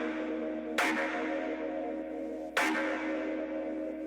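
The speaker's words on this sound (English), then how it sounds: "So the lead waveform sounds like this." A reverb-heavy lead synth waveform for an EDM drop, layered with filters, with two sharp, bright bell-like hits. Each hit rings out into a long, steady sustain in a spacious wash.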